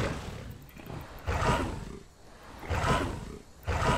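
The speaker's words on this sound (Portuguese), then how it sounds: "deve perceber que tem um fundo de som de tigre" A tiger roars over and over in the background of The Isle survival game, each loud growling swell rising and falling roughly every second in a steady cycle, with no voices.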